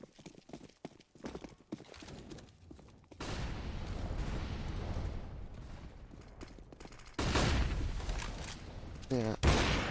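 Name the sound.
gunfire in Counter-Strike match on Train (video game)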